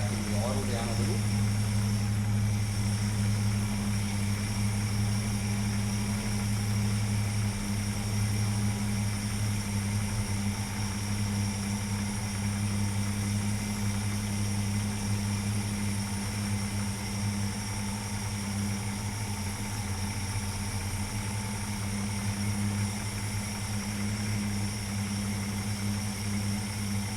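A Ford XW Falcon wagon engine idles steadily during a tune-up, a constant low hum with a deep droning tone that holds even and close throughout, with no talk over it.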